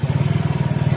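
A Suzuki Smash 115 motorcycle engine runs steadily with a close, loud, even pulsing thrum, idling while its battery is disconnected.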